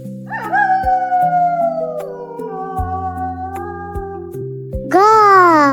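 A fox gives a long, wavering howl that slowly falls in pitch and trails off, followed by a brief burst of a voice at the end.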